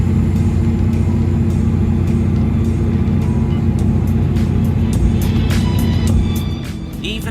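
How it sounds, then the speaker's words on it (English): A British Rail electric multiple unit train runs at speed with its windows closed, a close, steady motor whine riding over a constant low rumble, easing off slightly at the end. "engine sound actually wasn't that intrusive and had quite a nice relaxing tone and a very nice whining sound which was especially audible at higher speeds"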